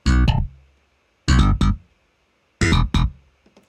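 GroveBass virtual bass on its clean setting plays a repeating figure of two short, punchy notes, heard three times with brief silent gaps between, close and full with no talking.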